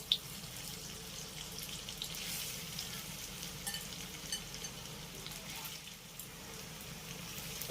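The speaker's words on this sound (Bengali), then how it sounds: "এবার আমি মাখিয়ে রাখা সোয়াবিনগুলো গরম তেলের ভিতরে ছেড়ে দেবো" Marinated soya chunks hit hot mustard oil in a pan, giving a steady, fairly quiet sizzle that holds through, with faint stirring and a small splash near the end.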